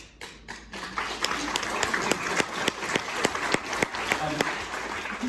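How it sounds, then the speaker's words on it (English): An audience claps during a political speech on tourism: scattered, distinct hand claps begin after a brief pause and build into steady, moderately loud applause with some crowd noise underneath. "I've not paid for anybody to start clapping."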